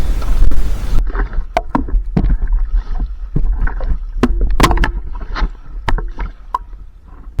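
Paddle strokes and water splashes from an inflatable air mattress used as a raft on a rocky river, coming as irregular close knocks and sloshes over a steady low rush of moving water, with no talking.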